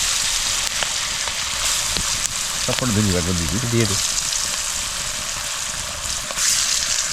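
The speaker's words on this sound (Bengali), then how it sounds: "তেল গরম হয়ে গেছে, এবার যাবে আলু ভাজা" Potatoes sizzle in hot oil for aloo paratha at a remote island picnic, a loud steady frying hiss throughout, with people talking over it.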